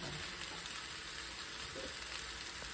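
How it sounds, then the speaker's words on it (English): Meatballs frying in a pan give a steady, fairly quiet sizzle that runs evenly throughout, with no voices over it. "I moved some meatballs to this pan so they can all cook evenly"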